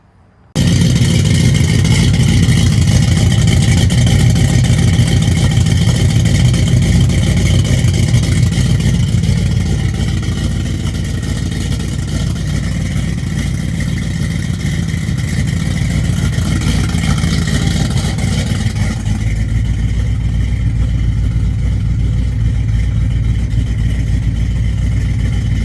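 Truck with a cammed small block Mopar engine driving on a test run, a loud continuous engine drone with deep lumpy rumble, easing off slightly partway through before holding steady, no talk.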